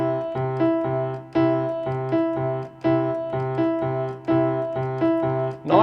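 Two-against-three polyrhythm on a keyboard instrument, low C repeated in threes against a high E in twos, a clear steady pattern of struck notes cycling evenly, played alone.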